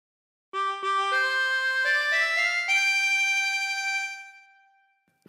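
Harmonica playing a short phrase of the Star Spangled Banner alone and close: a rising sequence of sustained blown and drawn notes that fades out after about four seconds.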